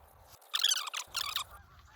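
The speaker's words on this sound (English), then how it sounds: "Geese is everywhere, boy." Two bursts of loud, harsh goose honking close by, one after the other, with quiet outdoor background between and after.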